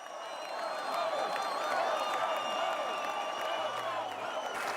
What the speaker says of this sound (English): Peter Navarro, who was met by welcome home chants from the crowd